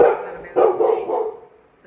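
A dog gives a couple of short, close barks, the second louder and followed by a softer trailing bark, in a quiet room at home.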